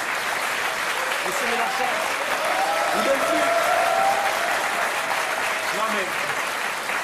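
Steady applause from a French TV talk-show studio audience cheering Jean-Luc Mélenchon runs loud and dense throughout, while a voice speaks over it.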